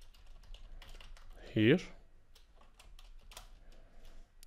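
Computer keyboard typing, scattered light key taps spread through the stretch, fairly quiet and close, with one short spoken word in the middle.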